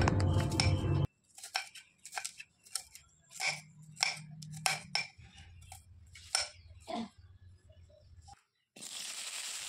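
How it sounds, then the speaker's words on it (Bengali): A knife finely slices a large onion into thin strips, giving a series of crisp, irregular cuts against a board, close and fairly quiet, with brief louder kitchen noise at the start and end. "পেঁয়াজটাকে একদম সরু সরু করে কুচিয়ে নেব"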